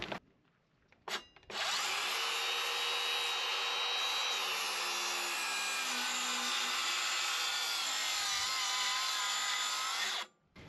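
Steady, continuous rasping of a saw through wood for several seconds, close and loud, starting and stopping abruptly, no voices.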